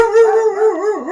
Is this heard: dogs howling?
yes